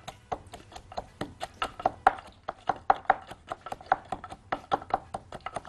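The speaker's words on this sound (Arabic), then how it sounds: "ونبدا ان احنا نهرس الثوم كويس جدا مع الملح" Garlic cloves are crushed with salt, giving a steady run of sharp, close knocks and pounding strikes on a hard surface, about three or four per second and fairly loud, with no talk.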